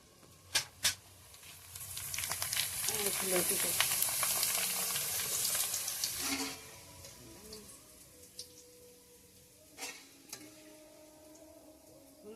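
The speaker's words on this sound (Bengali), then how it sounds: "পাপড় গুলো দিয়ে দিই, তেল গরম হয়ে গেছে হলো।" Papad sliding into hot oil for a Bengali Holi recipe, giving a bright, hissing sizzle that swells for a few seconds and then fades into quiet crackles, with a couple of sharp clicks before it.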